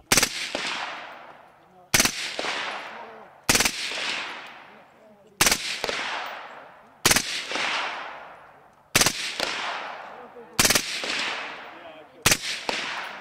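Gunfire at an outdoor shooting range fun shoot: eight loud, sharp shots spaced roughly every one and a half seconds, each followed by a long echoing decay.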